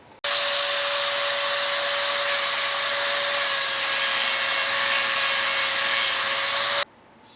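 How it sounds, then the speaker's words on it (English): A small handheld Dremel rotary tool cuts a channel for an LS engine swap, giving a steady, loud, high-pitched whine that holds for about six and a half seconds and then stops abruptly, with no talking. "I have to cut a channel on the left side of this. So I'm going to go ahead and do that now with my little Dremel."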